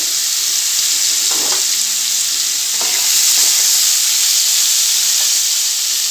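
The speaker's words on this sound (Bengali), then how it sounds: "এই যে আলু ভাজাটাকে ভাজবো শুধু প্লেনই নুন মিষ্টি দিয়ে ভাজবো" Potatoes fry in a pan with salt and sugar, giving a loud, steady sizzle and hiss close by, broken by a few soft scraping stirs of a spatula.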